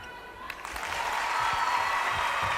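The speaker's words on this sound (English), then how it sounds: "It's almost got the polite applause status in the crowd, hasn't it?" Polite crowd applause at a South Africa vs England netball match, a steady patter of clapping building gently across the arena under a commentator's voice.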